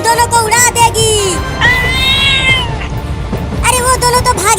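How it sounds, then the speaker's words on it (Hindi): Two cats on a train line meow repeatedly, loud and near, with long rising and falling cries that overlap one another over a noisy rumbling background. "2 बिल्लियाँ ट्रेन की लाइन पर है और ट्रेन जा रही है उनके पास।"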